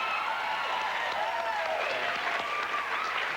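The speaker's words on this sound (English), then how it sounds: "Look at the claps." Steady applause from an audience, continuous dense clapping throughout with a faint voice mixed underneath.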